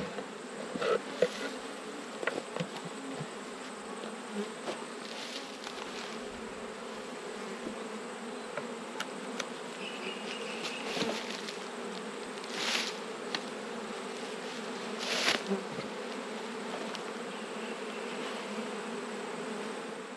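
Steady droning hum of many honey bees buzzing close by around an open hive in autumn, continuous throughout with occasional louder passes of individual insects near the microphone.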